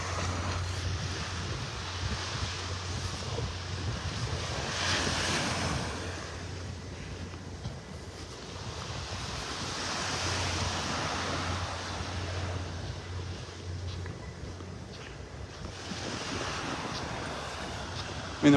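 Offshore wind and surf on a beach in North Naples, Florida, during red tide, with low rushing waves swelling and fading in slow cycles under steady wind noise buffeting the microphone, no voices.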